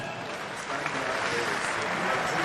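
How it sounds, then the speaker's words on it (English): An audience at the CHAN 2020 draw ceremony applauds, a dense patter of clapping that swells slightly and holds steady throughout. "Des applaudissements, s'il vous plaît"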